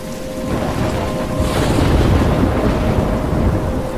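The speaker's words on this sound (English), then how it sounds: "I'm trapped in a storm?" A thunderstorm in the video game Life is Strange, with a deep, rolling rumble of thunder over steady, heavy rain, loud and continuous throughout.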